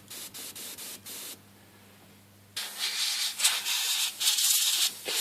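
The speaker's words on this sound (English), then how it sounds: "Blow the canopy off just with air to get any residue dust that's off it" Airbrush with no paint, blowing air only to dust off a scale model canopy: short bursts of hissing air, then a pause, then a longer, louder stream of breathy, fluctuating hiss up close.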